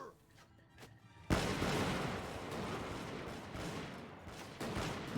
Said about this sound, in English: I was hoping after a single volley we might have eliminated them all.